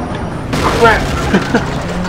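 A race car slamming side-on into a barrier in the Project Cars racing game, a sudden loud impact followed by grinding, scraping rumble, with someone talking over it.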